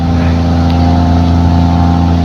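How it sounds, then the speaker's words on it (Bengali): Engine of a very large cargo boat in the Maldives, a loud, steady low droning hum with strong tonal throb, constant and close for the whole stretch. "অনেক বিশাল বড় বোট এই বোটে শুধু মাল সামানাই আনা নেওয়া করে"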